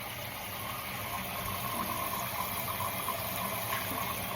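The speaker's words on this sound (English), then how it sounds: "I like to get the water up to right at the top" Tap water runs steadily into a pot for chicken broth, a soft continuous gush and hiss at an even level throughout, with no talk over it.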